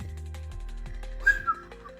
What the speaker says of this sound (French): je me fais tellement chier que je siffle